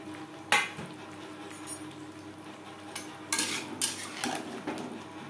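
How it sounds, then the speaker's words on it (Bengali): Peeled boiled potato quarters are tipped into a pan of low-oil spice mixture for a tangra fish curry, bringing a few metallic clinks and knocks from a utensil against the pan over a faint background hiss. "এই পর্যায়ে দিয়ে দেবো আলু।"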